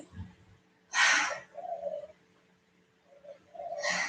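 A pigeon coos softly nearby, two breathy calls separated by a pause, with faint low murmuring between them in a quiet outdoor setting.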